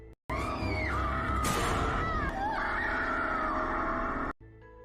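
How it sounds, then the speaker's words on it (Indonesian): A woman screams hysterically in a horror film, a loud sustained shrieking cry with wavering pitch that runs for several seconds and then cuts off abruptly. "Sampai dia diperlihatkan pada pemandangan yang membuatnya berteriak histeris."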